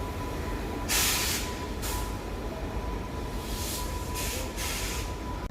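Gandhidham–Palanpur Express train departing a station, a low steady rumble with bursts of hissing air at intervals, heard alone at moderate distance.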